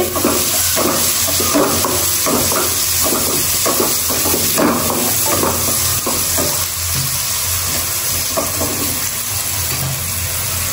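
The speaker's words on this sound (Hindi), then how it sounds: "इसमें मैं डाल दूँगी ये कैप्सिकम, ताकि ये भी प्याज़ों के साथ अच्छी तरीके से हो जाए फ्राई" Sliced capsicum frying with onions in a pan for chicken cheese samosa filling, a steady close sizzle broken by repeated stirring scrapes throughout.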